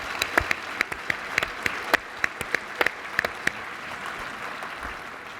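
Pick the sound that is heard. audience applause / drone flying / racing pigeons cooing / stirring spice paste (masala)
audience applause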